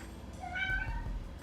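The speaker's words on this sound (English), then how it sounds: "Hi, kitten. Say hello to everybody." A kitten meows softly indoors during a quiet yoga session, giving one drawn-out rising meow with no talk over it.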